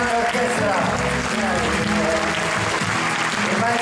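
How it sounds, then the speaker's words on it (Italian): Loud, dense clapping from a large theatre audience for an orchestra, sustained and steady throughout with a musical hum lingering underneath. "applauso alla mia grande orchestra"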